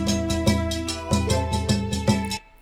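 A short percussion loop sampled from a video game plays clean and full-bodied, with a steady rhythmic pattern of punchy hits over sustained tones, cutting off abruptly near the end.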